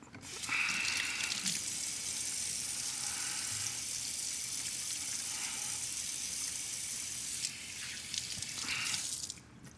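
Water from a kitchen tap splashing into a sink as sticky hands are washed, a steady hissing rush lasting several seconds before cutting off, close and fairly loud, no talk.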